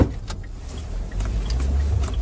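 A Dacia Dokker van pulls away on a city street, its engine a steady low rumble close up with light cabin rattles and no talking.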